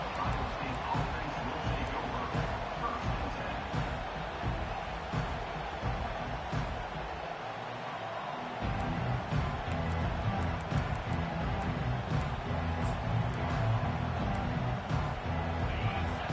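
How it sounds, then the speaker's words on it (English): A packed football stadium crowd at a Michigan vs Ohio State game roars loudly and steadily, a dense continuous cheer that dips briefly before surging back to full volume. "This crowd, full throat, splitting the eardrums"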